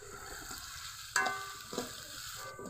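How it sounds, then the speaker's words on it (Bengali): Grated onion and ginger fry in a pan, a steady close sizzle and crackle with two sharper bursts of spatter partway through, no voices. "পেঁয়াজ আর আদা কিছুক্ষণ ভেজে নিয়েছি"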